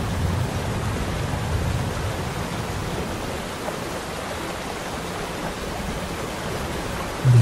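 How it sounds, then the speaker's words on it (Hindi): Steady, dense rush of falling water from a waterfall, continuous and fairly loud throughout with no voices, like a broad wash of noise. "धीरे धीरे आप इस झरने के नीचे जाते हैं।"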